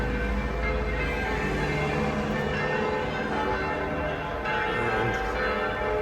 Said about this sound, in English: we've got the church bells going now